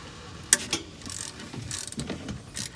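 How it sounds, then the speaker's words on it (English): A ratchet loosens the 14 mm oil drain plug on an Infiniti G37S coupe, giving a sharp initial crack followed by a run of quick, close clicking strokes with no talking. "And it's a 14 millimeter. So we'll go ahead and loosen that."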